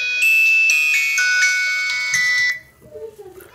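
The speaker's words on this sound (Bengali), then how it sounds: "এখানে আমরা প্রথমে ফোনটির রিংটোনের সাউন্ডটা একটু দেখে নেব" A keypad mobile phone plays its ringtone loudly and close by, a bright electronic melody of sustained beeping tones that stops abruptly, followed by faint room noise.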